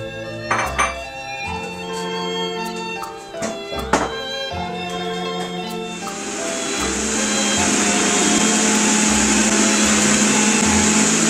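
A blender whirs up fruit for a homemade fruit and walnut cake, its loud, steady motor roar kicking in midway and running continuously after a few scattered kitchen clinks and knocks.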